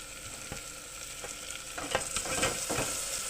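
Tomatoes and garlic paste sizzle steadily in a hot pan while a spoon stirs them, with scraping strokes coming in a loose rhythm and growing busier toward the end, close and moderately loud.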